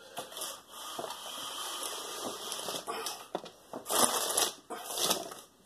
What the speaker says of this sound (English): I'm going to close these blinds too.